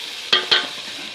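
Tomatoes and green chillies hit a hot pan for palak aloo, giving two quick loud sizzling bursts over a steady background frying hiss.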